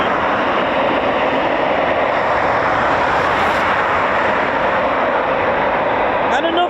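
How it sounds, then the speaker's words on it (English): Several Eurofighter Typhoon FGR4 fighter jets head out from an RAF station, their engines a loud, continuous broadband roar that fills the scene, with people talking over the din. "typhoons going out"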